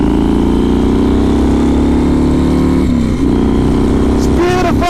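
A 2016 Harley-Davidson Softail Custom motorcycle pulls hard in third gear from about 2,500 rpm, its loud engine drone rising steadily with a brief dip at a shift, and a rider's voice breaking in at the end.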